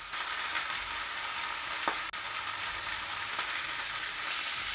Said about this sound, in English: So I'm gonna tuck the sausage at the corners and let them brown just so slightly.